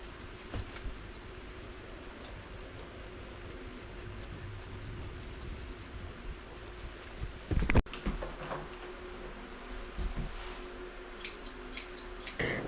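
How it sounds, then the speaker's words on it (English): Grooming scissors snip through a dog's scraggly hair, small quiet clicks repeating in a steady stream close by, with a louder clatter of handling midway and a few sharper snips near the end. "I'm just trimming up all his scraggly hairs"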